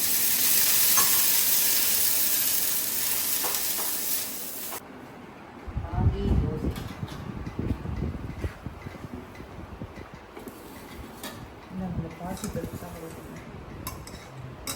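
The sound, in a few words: dosa frying on pan with onion, green chili, carrot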